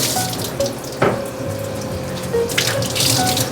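Tap water runs steadily into a sink to drench a cloth for lining a stainless steel steaming rack for sticky rice, a close, continuous splashing stream with a brief louder gush.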